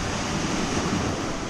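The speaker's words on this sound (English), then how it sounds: "We're more in the wind here." Wind and waves along the western shore of Clapboard Island in Casco Bay, a dense, steady wash of surf and wind noise filling the whole stretch with no voices.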